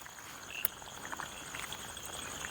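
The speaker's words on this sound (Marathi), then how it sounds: "तुम्ही बेडकांचे जे आवाज आहे ते ऐका" Frogs call faintly in the background among a steady insect-like trill, with monsoon rain patter in coastal Konkan and one sharp click, no talking.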